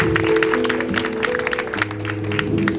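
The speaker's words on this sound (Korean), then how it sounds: "우리 큰 박수로 우리 축하해 주시길 부탁드립니다" Wedding guests applauding during a ring exchange at a house wedding hall, a dense burst of clapping heard over a sustained tonal music bed that runs underneath throughout.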